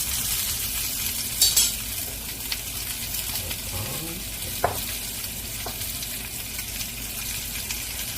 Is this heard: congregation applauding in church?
no